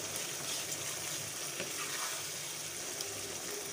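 Boiled white lobia beans fry in a pan with a soft, steady sizzle and occasional stirring scrapes, close but quiet, with no talk.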